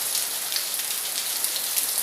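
Heavy rain pours down steadily in a dense, continuous hiss of drops striking surfaces, with no voices.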